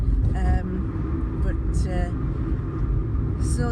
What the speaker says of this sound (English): It's just a little dinky little car. It's a little Citroen C1